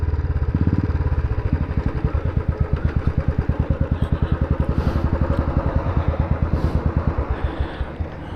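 A motorcycle with a broken brake rides along, its engine thumping in a steady, fast rhythm close by, with clattering mechanical noise over the whole stretch and no talk.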